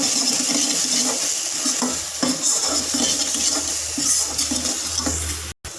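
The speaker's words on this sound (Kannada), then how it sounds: "ಹಾಫ್ ಸ್ಪೂನ್ ಗರಂ ಮಸಾಲ ಎಲ್ಲಾರನ್ನೂ ಹಾಕಿ ಚೆನ್ನಾಗಿ ರೋಸ್ಟ್ ಮಾಡಿ" Garam masala and coriander powder roasting in oil in a pan for Hyderabadi paneer, a steady close sizzle with continuous stirring and scraping, fairly loud throughout.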